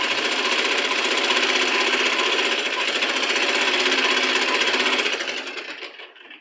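Close up, a sewing machine stitches a blouse side joint in one continuous fast run of needle chatter lasting about five seconds, then it slows and trails off, with no talking.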